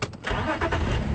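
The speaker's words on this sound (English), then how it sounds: "every time I start the vehicle" A safari vehicle engine cranks briefly and catches, settling into a steady, close rumble.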